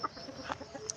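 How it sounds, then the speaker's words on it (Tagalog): Soft, close clucking from chickens, a few short murmured clucks in quick succession with a brief higher chirp near the end. "Daghan mga manok sa kung magulang dere."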